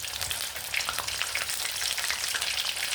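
Garlic cloves sizzling and frying in a curry pan of vankaya gongura pulusu, a bright steady crackle with stirring, close and alone without talk.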